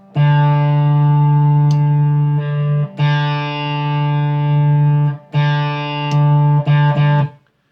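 MoVoll Absolute Zero germanium fuzz pedal on electric guitar, held notes and chords with a gritty, mid-forward fuzz tone, three long sustained strums separated by short breaks, loud and close with no talking.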